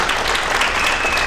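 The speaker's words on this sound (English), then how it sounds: "So a round of applause for our students once again." An audience at a political debate for Pennsylvania House District 63 gives students a round of applause, a dense and steady wash of clapping throughout.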